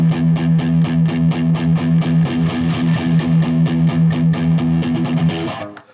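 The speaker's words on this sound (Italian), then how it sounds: "sentite come cambia il suono della distorsione" An electric guitar runs through a Masotti Od Box distortion pedal that stays switched on. A dense, buzzing chord is strummed in a steady repeated rhythm for several seconds, then cut off sharply.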